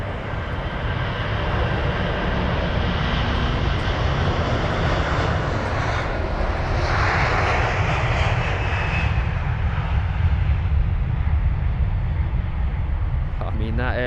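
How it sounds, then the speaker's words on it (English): An Airbus A330-300 jet, Virgin flight VS131, roars on takeoff at London Heathrow, a loud, continuous broadband engine rumble that holds steady throughout. "Let us all hear the engine roars"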